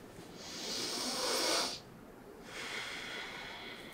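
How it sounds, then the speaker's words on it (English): During a chiropractic adjustment for a patient with cerebral palsy, one long, close, deep breath is drawn in and then let out after a short pause. "Deep breathing."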